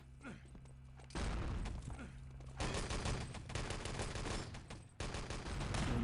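Rapid bursts of gunfire in an Enemy Territory match, loud dense rattling volleys that stop and restart several times over a few seconds, with no talk over them.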